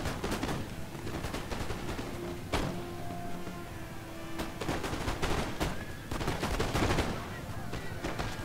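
Musket volley fire in a Napoleon: Total War battle, with dense crackling rifle shots and rolling fusillades in repeated waves, loud and continuous, with a few sharper single reports standing out.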